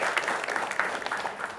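A brief burst of audience clapping at a school quiz competition, moderately loud and fairly even for under two seconds.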